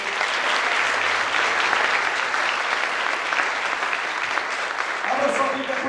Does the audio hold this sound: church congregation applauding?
yes